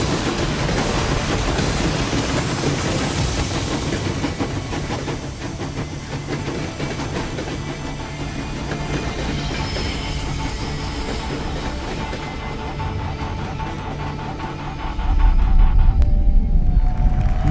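Train from the Metro video game trailer rumbling past with steady hiss and low mechanical clatter, dense and continuous throughout, swelling louder with a heavier low rumble near the end.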